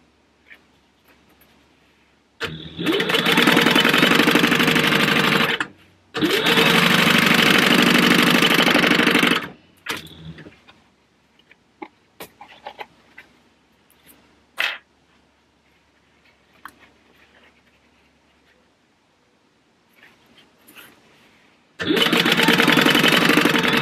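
A sewing machine stitches the card slots of a Howler-inspired purse, running in three loud, steady bursts of a few seconds each, separated by quiet stretches with faint handling clicks.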